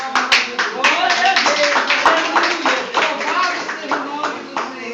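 Congregation at an evangelical church service clapping loudly and continuously, close and sharp, with voices speaking and shouting over it.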